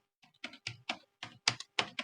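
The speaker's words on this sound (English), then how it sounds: "you are going to want to type Mendeley Reference Manager" Quick keystrokes on a computer keyboard, about eight distinct clicks in a brisk, slightly uneven rhythm, close and fairly quiet with silence between taps.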